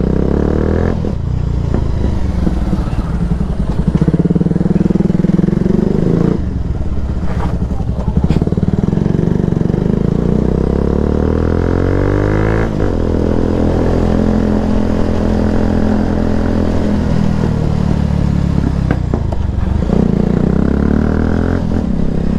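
Yamaha R15 motorcycle fitted with an Akrapovic exhaust, its engine droning loudly and continuously close by, with the pitch shifting through rev changes and brief dips, no talking.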